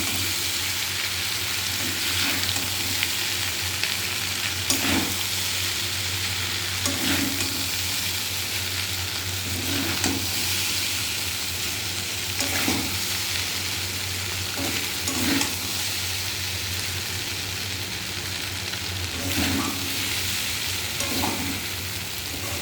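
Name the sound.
stirring food frying in a pan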